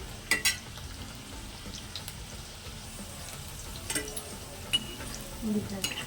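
Baby potatoes frying slowly in oil on a low flame make a soft steady sizzle, with occasional spatula taps and scrapes against the pan, close and fairly quiet.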